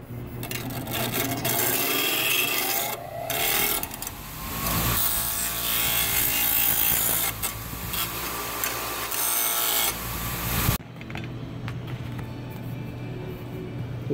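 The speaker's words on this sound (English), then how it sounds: "We'll clean the rust off of this." Rust is scrubbed off a Jeep XJ wiper arm in steady, rasping back-and-forth strokes, close and fairly loud. The scrubbing stops abruptly near the end, leaving quieter background noise.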